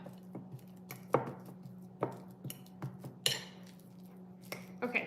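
Ripe bananas mashed in a bowl for cranberry banana bread, heard as a run of soft, irregular squishing and tapping strokes from a utensil against the bowl, close by and fairly quiet, with a steady low hum underneath.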